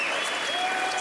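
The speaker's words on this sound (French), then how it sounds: "Mesdames et messieurs, je vous demande d'applaudir Noémie Lenoir et Christian Califano." Studio audience applause for guests arriving on a French car show set, a dense, steady wash of clapping that stays loud and even throughout without any talk.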